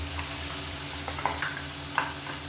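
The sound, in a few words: frying ground masala paste in oil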